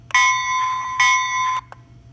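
Two bright electronic bell tones from a Lionel LionChief toy train ring out in quick succession, each sustained briefly before a short click ends the sequence.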